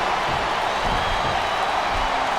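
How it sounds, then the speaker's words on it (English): Arena crowd murmur from WWE SmackDown vs. Raw 2007 on Xbox 360, a steady, dense wash of spectator noise held at an even level throughout, with no clear cheers or claps standing out. "Sounds like this crowd's got something on their minds, King."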